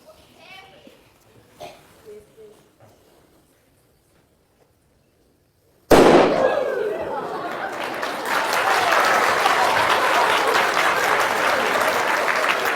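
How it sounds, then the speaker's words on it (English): Soft talk, then near silence before a single sharp cannon blast, immediately followed by loud, sustained applause and cheering from a crowd. "When the fuse burns down and the cannon fires"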